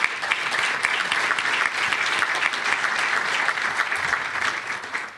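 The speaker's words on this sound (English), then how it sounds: "I actually want to give a round of applause now" An audience at an economic summit breaks into sustained applause, dense and steady for several seconds, fading slightly at the end.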